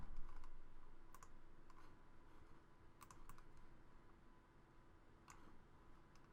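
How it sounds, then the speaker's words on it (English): Quick taps on a computer keyboard, scattered bursts of crisp clicks with short pauses between, fairly quiet and close, no voices. "Let's type in Super Mario Bro."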